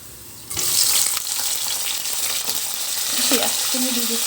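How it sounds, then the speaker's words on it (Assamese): Chicken hits hot oil in a kadai with a sudden loud sizzle that settles into a steady close frying hiss, punctuated by stirring scrapes and a few soft clinks. "এফালে কেৰাহী গৰম কৰি তেল দিম ইয়াতে মই চিকেন বনাম"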